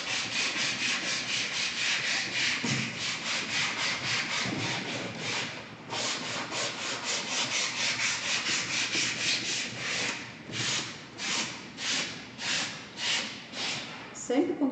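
Sandpaper rubbing back and forth over a wooden drawer with a patina finish, a close, continuous scratchy rasp that breaks into steady rhythmic strokes toward the end.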